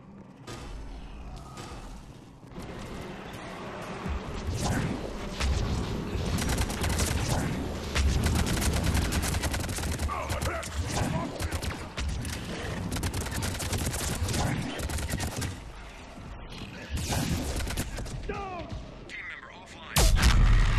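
A heavy explosion erupts at the end of a chaotic multiplayer firefight in Mass Effect 3, a loud low boom breaking out after a long stretch of steady gunfire and combat noise.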